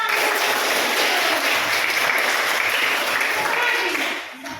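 A room full of people claps steadily, dense and sustained, then the applause starts to fade near the end.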